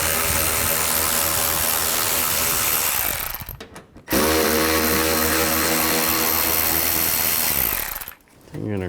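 Power ratchet or impact driver with a 7mm socket spinning a bolt out of a 2011–2014 Chrysler 200 front end during headlight replacement, a loud continuous whir in two long bursts with a brief pause between.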